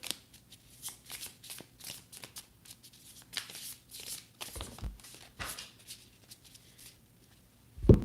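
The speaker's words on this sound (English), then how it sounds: "I'll pull one more card for you" Tarot cards being shuffled by hand in a series of soft, rapid riffles and slides, close and quiet, ending with a brief thump.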